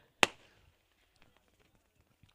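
A single sharp firecracker bang goes off nearby to welcome guests at a village cricket tournament, followed by faint crackles and distant pops against quiet background.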